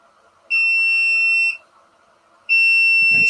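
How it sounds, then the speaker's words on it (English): An incubator's temperature alarm sets up for button quail eggs, giving two loud, piercing electronic beeps about a second long with a pause between them, with light handling noise in the background. "that's the temperature alarm"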